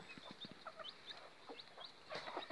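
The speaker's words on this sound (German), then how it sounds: "Speedy mit Küken" A hen with a chick clucks softly in a series of short, quiet calls and chirps, with faint peeping between them in a calm farmyard enclosure.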